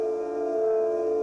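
A synth patch feeding a vocoder input holds a steady, bright, sustained tone with a faint airy edge, alone and even in level for just over a second.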